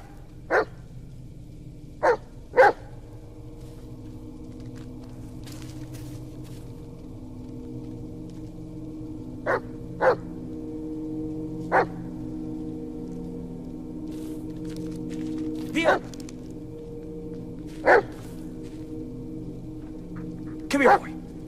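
Dog barking in the video game Blair Witch, short sharp barks spaced irregularly, some in quick pairs, over a low droning game ambience.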